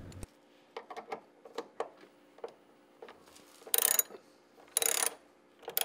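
A ratchet tightens the bolts on a stainless steel, powder-coated Jeep JK door hinge in short bursts of quick clicking, with a couple of louder, longer ratcheting runs near the end, close and alone.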